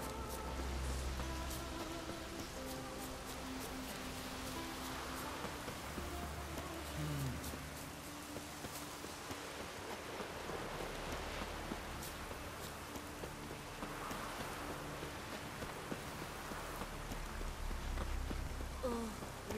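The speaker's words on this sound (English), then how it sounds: "Oh, raining again." Steady rain falls in The Witcher 3 on an island, a soft, even hiss of drops that continues throughout with faint music underneath.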